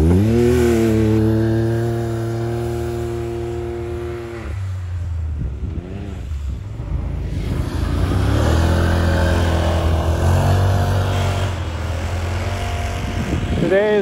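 A snowmobile engine revs loudly and close, a harmonic drone rising and falling in pitch, dropping away briefly midway before surging back, with voices talking over it.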